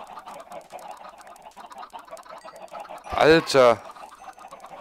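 Chickens cluck in a Minecraft game, a loud burst of rapid in-game fowl sounds rising briefly over continuous speech from a player.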